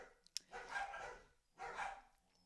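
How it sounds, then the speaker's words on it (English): Dogs bark indoors in two muffled, moderately distant bursts, each a cluster of rough barks, with a quiet pause between them and a faint click at the start. "I don't know why my dogs are barking so much."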